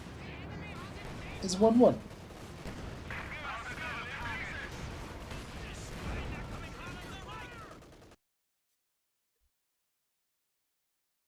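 An anti-tank strafe in a competitive real-time strategy video game: a short burst of gunfire-like impacts near the start, under steady commentary from a caster talking throughout.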